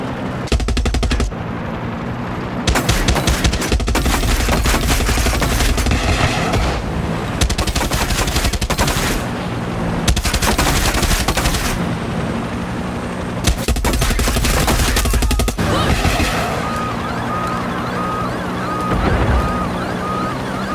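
Automatic and single gunfire from a firefight in the video game Far Cry 6, loud bursts of rapid shots repeating every few seconds with brief pauses between, up close and without talk.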